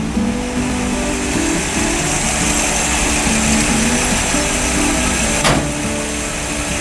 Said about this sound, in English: Your carburetor sucking better. You hear that sucking sound?